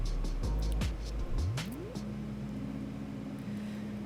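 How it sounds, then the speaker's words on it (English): Electric golf cart driving along a paved cart path at Disney World, with a low motor whine rising in pitch and then holding steady under road rumble, close and moderately loud, no voices. "because we are on a vehicle, we are taking the one for golf carts"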